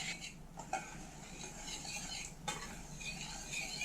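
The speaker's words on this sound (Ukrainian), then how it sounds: "Все перемішаю і ароматна паніровка для нашої риби готова." Quiet scraping and stirring of a dry flour breading mixture with ground pepper and paprika in a bowl, with a utensil brushing and tapping the sides in a steady, soft rhythm.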